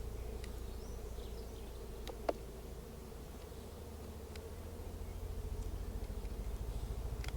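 Honey bees hum steadily in an open hive during a checkerboarded colony inspection, a continuous low buzz with occasional closer passes, quiet and without speech.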